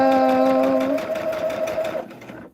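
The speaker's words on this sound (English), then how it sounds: "We're just sewing down that line, you guys." Close, steady whir of a sewing machine running along a quilt seam, a tonal motor hum with rapid needle chatter that cuts off abruptly after about two seconds.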